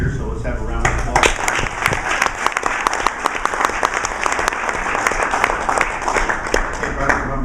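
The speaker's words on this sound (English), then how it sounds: "So let's have a round of applause." Applause from the audience at a Rotary club honors event, sustained dense clapping close by and loud throughout, with a few voices briefly heard at the start.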